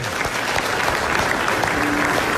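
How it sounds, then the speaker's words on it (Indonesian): Studio audience breaks into dense, steady applause, many hands clapping together at close range for a couple of seconds during a television comedy show. "Iya, tepuk tangan dulu dong."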